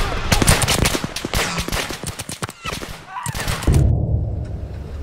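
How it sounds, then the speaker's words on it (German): Bursts of rapid automatic Tommy gun fire rattle loudly and close in a World War II drama, with a short lull before a final heavy burst and a muffled tail. "Hast du die Schüsse gehört? Das war eine Tommy Gun."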